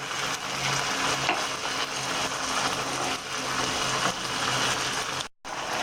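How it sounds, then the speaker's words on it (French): Chicken sizzles in a pan with canned carrots and peas, giving a steady, close frying hiss with faint stirring scrapes. It cuts out briefly near the end, and no one speaks. "on va terminer la cuisson de notre viande avec donc les carottes et les petits pois"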